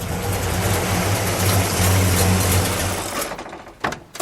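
An AMC muscle car engine revs loudly and roughly for about three seconds, then cuts off abruptly, leaving a couple of faint clunks.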